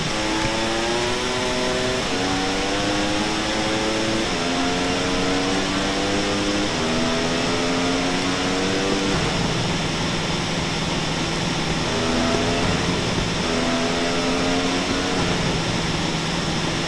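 A motorbike engine in the video game GTA San Andreas drones loudly and continuously, its pitch climbing and dropping back again and again as it works up through the gears.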